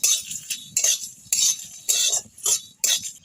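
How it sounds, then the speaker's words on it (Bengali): Whole spices, peppercorns, panch phoron, fennel, cumin, dry red chillies and bay leaves, dry-roasted without oil in a pan, giving bright repeated scraping and clinking strokes of a spatula, about six in quick rhythm, close and clear. "গোলমরিচ আর 5 ফোড়ন, মৌরি আর জিরে, শুকনো লঙ্কা, তেজপাতা, এগুলো আমি ভালো মতো ভেজে নেব।"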